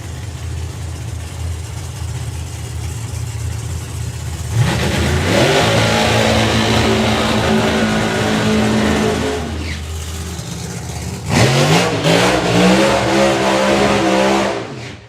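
A Pro Mod drag car with nitrous and supercharger does a burnout at a drag strip, its engine roaring loud and close, rising in revs in two long surges with a brief dip between.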